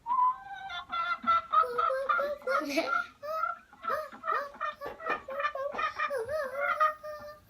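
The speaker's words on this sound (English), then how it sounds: "how does a chicken sound? This is a chicken." A recorded chicken clucks and cackles in a busy, warbling series, played by a Google Home smart speaker, close and fairly loud.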